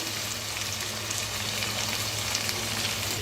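Potatoes and okra fry in a pan for masala aloo bhindi, giving a steady, even sizzle that holds at a constant level throughout, close and alone with no talking.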